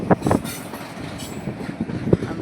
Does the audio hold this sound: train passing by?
yes